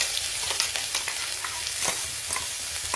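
Green chili paste sautéing in hot oil for sabudana khichdi, with a steady sizzle and a series of scraping stirs from a spatula close by, and no talking.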